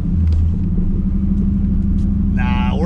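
A tuned Pontiac Trans Am rumbles steadily as it pulls away, a loud low engine drone throughout with a brief higher whine near the end.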